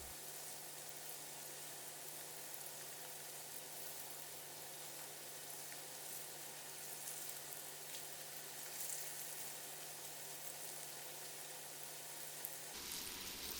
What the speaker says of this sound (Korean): 그때 2분 정도 강불로 변경해서 튀겨주세요.